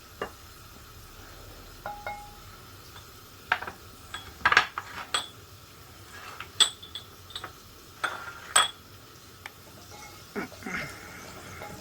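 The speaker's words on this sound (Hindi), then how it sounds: "ये मेरी खूबसूरत सी मिट्टी की हांडी में खूबसूरत सी पनीर फ्राई हो रही है" Paneer fries in a clay handi with capsicum nearby, producing a soft background sizzle under scattered clinks and scrapes of a utensil against the pot, faint and intermittent.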